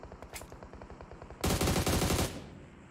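Automatic gunfire in the mobile battle royale game PUBG Mobile during a championship match: sustained rapid bursts, loud and dense in the middle, with fainter distant shots before and after.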